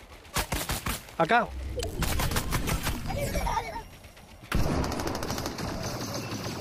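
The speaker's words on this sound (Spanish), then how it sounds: "ya creo que ya empezaron a salir los primeros balazos" Rapid bursts of gunfire in a shooter video game match, sharp clustered shots near the start, then denser sustained firing and a loud noisy stretch later, with excited talk from a player over it.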